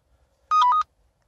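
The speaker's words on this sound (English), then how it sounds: "now the original sounds that came with the phone were kind of dull" An original built-in ringtone on an Orange SPV smartphone plays as a short run of three or four quick electronic beeps, clear and alone against near silence.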